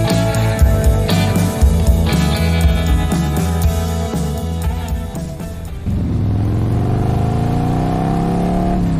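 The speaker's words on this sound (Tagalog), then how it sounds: "Pakusgan ko pang pagpadagan niya itong motor bay." A motorcycle engine revs hard and climbs in pitch as the bike speeds up, loud and close, with a steady roar continuing after the acceleration.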